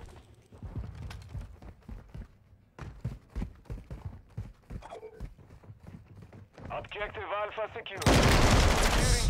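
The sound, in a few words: weapon gunfire in the video game Modern Warfare 2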